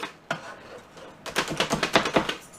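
Onions cut in a manual food chopper: one sharp clack, a pause, then a quick run of about eight rhythmic, loud chopping strikes close by, with no talking.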